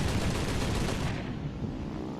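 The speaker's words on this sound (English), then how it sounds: "Certainly sound like normal 30 cal." A .30 caliber aircraft machine gun fires in a flight combat video game, a loud continuous rattling burst that fades toward the end.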